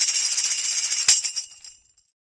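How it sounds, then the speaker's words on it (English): A tambourine jingles with a shimmering rattle of metal zils, then a single sharp strike on its head, leaving the jingles to ring out and fade quickly. "A tambourine sounds like this."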